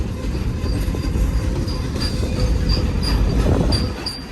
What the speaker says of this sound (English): This train's on main track number 2, westbound.